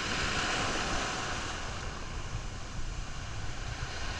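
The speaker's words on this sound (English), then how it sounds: "those waves though" Ocean waves surge in a broad, wind-blown wash of surf that swells early and then settles into a steady roar, with gusts buffeting the microphone.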